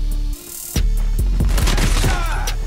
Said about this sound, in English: That headshot was mad clean, by the way.